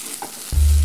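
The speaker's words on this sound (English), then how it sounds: "Time for more stir frying." Food hits a hot pan for stir frying, a sudden loud sizzle that bursts in after a quiet moment and holds steady and close.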